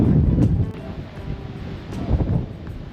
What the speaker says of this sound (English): It's getting pretty windy now.